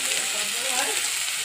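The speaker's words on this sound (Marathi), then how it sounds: "आता हे आपले कांदे टमाटर आणि आपला मसाला छान असा फ्राय झाला आहे." Onions, tomatoes and masala fry in a pan with a dense, steady sizzle, close and continuous, with no other sound over it.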